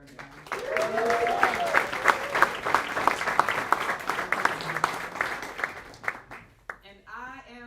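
A live audience at an evening event at the National Public Housing Museum breaks into sustained applause and cheering that fills the room for several seconds, then fades as a voice begins speaking near the end.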